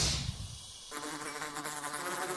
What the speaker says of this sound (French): Abeille!